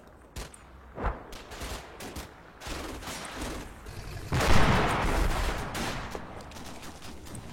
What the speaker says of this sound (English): Oh, I got a flak gun.